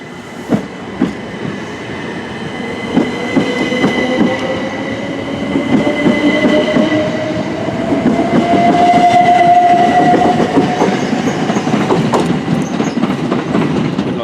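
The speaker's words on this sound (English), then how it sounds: "Ready to depart is the 1529 Southern service to Portsmouth and Southsea." A Southern passenger train pulls out of Barnham station, loud and close: a rising motor whine with rhythmic clickety-clack of wheels over rail joints and some squealing, building steadily as it departs.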